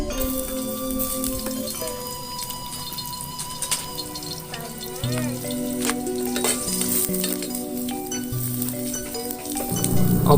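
Shallots frying in a pan while cooking mie goreng with mushrooms: a steady, continuous sizzle with occasional clinks of a utensil against the pan, moderately loud and close, with no voices.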